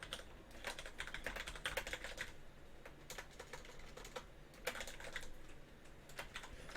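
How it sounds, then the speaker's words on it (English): Rapid clacking keystrokes on a mechanical computer keyboard come in bursts and pauses throughout, close and fairly quiet, with no voices. "don't get a mechanical keyboard if you like typing"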